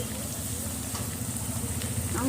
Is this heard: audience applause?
no